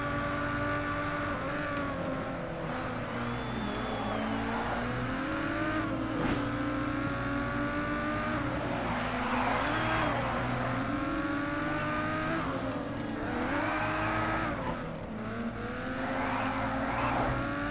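Race cars in Race Driver GRID roar side by side, engines revving and shifting through gears with rising and falling tones, plus occasional tire squeal, loud and continuous.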